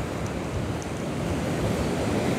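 Sea waves surge and crash continuously onto the beach during a cyclone at Karachi's Sandspit and Hawke's Bay shore, a dense, loud wash of surf mixed with gusting wind buffeting the microphone, with no voices.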